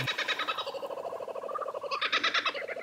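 Kookaburra calling in Australian bushland, a long rolling cackle of rapid repeated notes that rises into a louder laughing burst near the end, fairly close and clear with no talking.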